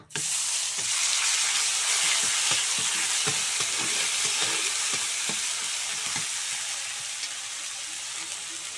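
A paste of ground onion, garlic, chili and ginger sizzles hard in hot oil, a loud, steady hiss with faint stirring taps beneath, easing slightly toward the end.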